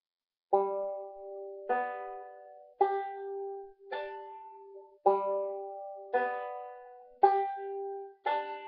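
Plucked banjo notes roll out in a steady, evenly spaced mixed roll with alternating thumb, each twangy note ringing briefly before the next, played alone and fairly close.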